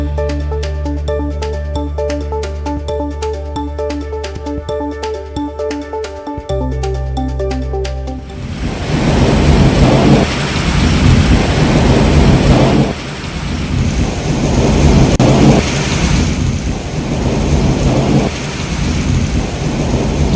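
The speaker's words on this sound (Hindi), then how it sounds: "गरज चमक के साथ बारिश हो रही है राजधानी रायपुर में।" Heavy monsoon-style downpour with thunder over Raipur, Chhattisgarh, during a storm that caused power cuts: loud, dense rain hiss with rolling thunder swells, preceded by several seconds of tonal music.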